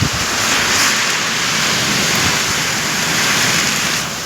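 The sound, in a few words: rain with strong wind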